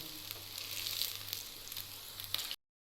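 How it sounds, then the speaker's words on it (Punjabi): Aloo tikki frying in hot oil, a steady crackling sizzle close by and fairly quiet, with a few brighter pops near the end before it cuts to silence. "2-3 ਮਿੰਟ ਹੋ ਗਏ ਟਿੱਕੀਆਂ ਨੂੰ ਫਰਾਈ ਹੁੰਦਿਆਂ ਨੂੰ"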